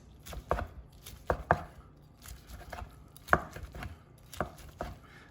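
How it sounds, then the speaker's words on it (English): Knife cutting roast turkey breast into strips on a board, a series of crisp close knocks and slicing strokes, often in quick pairs, with quiet gaps between, no talk. "is just to cut it into strips like so"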